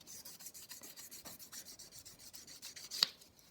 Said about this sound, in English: it's the buffer side to buff in the oil